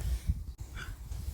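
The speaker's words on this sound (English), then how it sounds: "Dogs are playing with their friends." Dogs playing together, heard as close snorts, huffing breaths and low grumbles against a muffled background.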